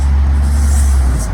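Loud, close, steady low engine rumble of a 500T city bus in Istanbul, a heavy diesel drone with no pauses across the short stretch.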